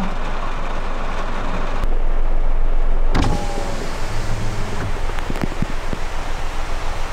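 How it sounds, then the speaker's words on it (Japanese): Heavy rain pouring down at a campsite: a loud, continuous broadband hiss with a few sharp knocks partway through, then a slightly pulsing downpour. "向こうの空は明るいけど、ザーザー降りです。"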